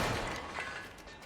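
Necromancer corpse explosion in Diablo 4, a burst of crackling, shattering blasts with a dense, noisy impact that decays over about a second amid game din.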